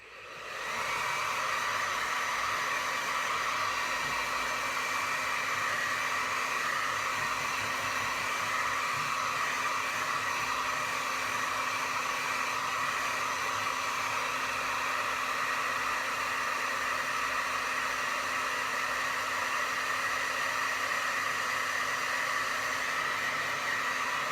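A hair dryer blows steadily to dry pink-and-white acrylic paint on a clipboard being decorated with flowers, a continuous close whooshing hum with a faint motor whine running alone throughout.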